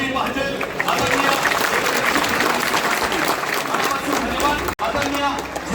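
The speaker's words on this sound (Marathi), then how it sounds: "आपल्या नेत्यासाठी एक स्वागताची जोरदार टाळी वाजली पाहिजे" A large crowd of municipal councillors and supporters at a political gathering in Satara applauds loudly to welcome the Chief Minister of Maharashtra, a dense continuous roar of clapping with one brief cut near the end.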